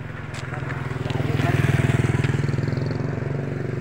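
Motorcycle passing along a bypass road, a close rhythmic engine putter that swells to a peak and eases off again, with a dog being walked nearby.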